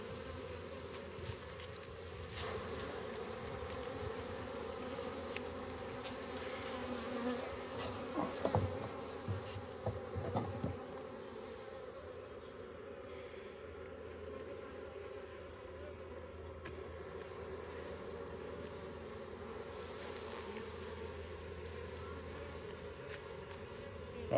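Honeybees buzz steadily throughout a hive inspection, a dense continuous drone close by, with a few brief handling knocks and rustles partway through.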